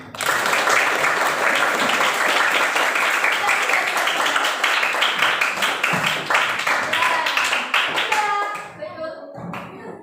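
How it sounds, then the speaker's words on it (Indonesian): Loud, dense hand clapping from a class during a teaching practice exam fills the room steadily for about eight seconds, then fades as a voice begins to speak. "Oke, tepuk tangan."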